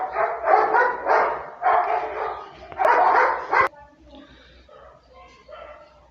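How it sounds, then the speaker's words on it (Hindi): Dogs bark outside in a few bursts of rapid yapping, loud and somewhat distant, with someone speaking over and between the barks. "कुत्ते बाहर है जो भौंक रहे हैं"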